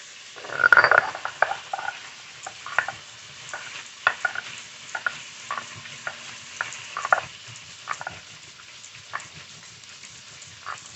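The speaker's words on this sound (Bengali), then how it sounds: "আলুটা একটু নেড়ে দেবো" Potatoes frying in a pan get stirred with a utensil, giving quiet irregular scrapes and knocks over a faint sizzle, starting with one louder clatter, close by and with no talking.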